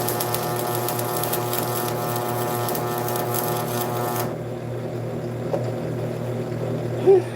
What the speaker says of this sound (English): It's thin, so always gotta be careful welding thin stuff.